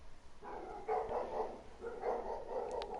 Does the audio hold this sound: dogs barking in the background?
yes